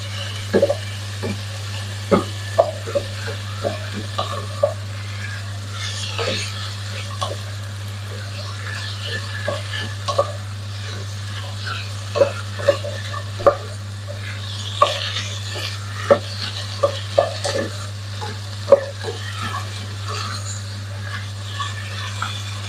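Onion, garlic and salt are stirred in a dry pan while making chicken rasam, with a run of light, close clicks and scrapes over a steady low hum and only a faint sizzle.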